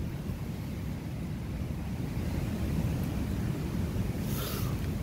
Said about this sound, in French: Comme vous voyez aujourd'hui, il y a pas mal de vent.